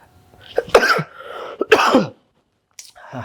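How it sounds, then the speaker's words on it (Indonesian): Two harsh, close coughing bursts separated by a brief pause, followed by a fainter rough throat sound. "aku langsung batuk"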